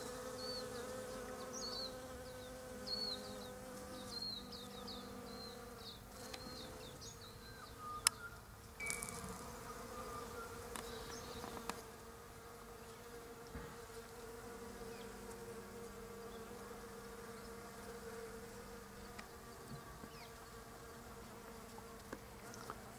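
Bees hum steadily around heavenly primrose oxalis flowers in a garden, a soft continuous drone with a few buzzes passing closer, no talking.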